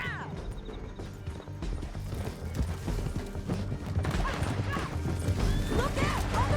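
Rapid hoofbeats gallop amid a busy mix of clatter, a horse's whinny and other game noise in Red Dead Redemption 2, continuous and fairly loud.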